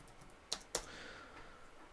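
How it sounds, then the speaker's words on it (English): Two quick keystrokes on a computer keyboard, quiet and close, then a faint hum. "Let me type in Alibaba."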